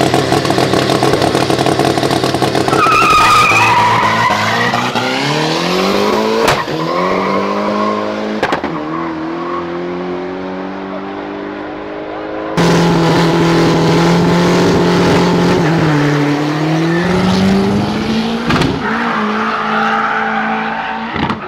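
A VW Voyage and a VW Polo race hard, engines revving loudly through rising and falling gear pulls, with tires squealing as they accelerate, close and continuous throughout.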